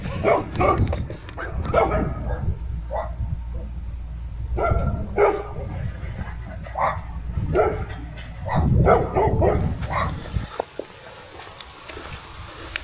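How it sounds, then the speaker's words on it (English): Overexcited dogs bark repeatedly at a kennel in Poland, a run of loud, close yapping barks in bursts over nearly ten seconds, then a sudden drop to quieter ambient sound. "the dogs are overexcited here"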